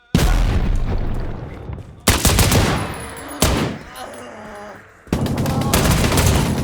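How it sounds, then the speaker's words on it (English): Gunfire and blasts in the tactical shooter Operator, where a frag grenade is thrown: four loud, close bursts of heavy fire or explosion, each decaying before the next. "I'm going to throw a frag in here."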